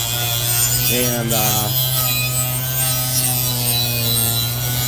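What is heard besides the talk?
orbital sander polishing rust off old scraper tools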